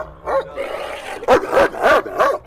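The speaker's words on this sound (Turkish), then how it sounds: "10 yaşında bir köpek abi bu." A ten-year-old champion dog gives a series of loud, close barks with whining, rising tones in between, coming in irregular bursts.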